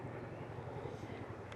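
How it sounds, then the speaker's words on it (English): A helicopter flying overhead, heard as a steady low droning rumble throughout, with some wind noise on the microphone. "Excuse the helicopter."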